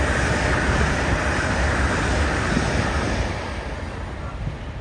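An LNER Azuma train coming in from London King's Cross, heard as a loud, broad rumble and rushing roar close by that eases slightly toward the end; no voices.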